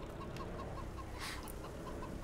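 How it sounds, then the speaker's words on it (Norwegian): A hen in the farming game Farming Simulator 22 clucks in short, quiet repeated bursts over a steady low background hum, with a brief brighter squawk in the middle. "Åh, bråker du da, høne?"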